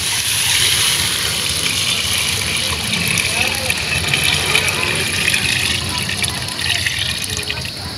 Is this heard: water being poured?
yes